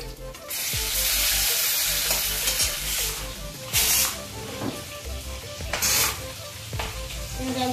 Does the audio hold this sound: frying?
yes